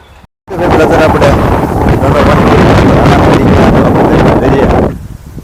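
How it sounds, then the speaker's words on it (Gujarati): Powerful wind blowing near the sea, roaring and buffeting the microphone loudly for several seconds after a brief silent gap, then easing off at the end; no clear speech over it. "કેટલો પવન આવે છે અત્યારે"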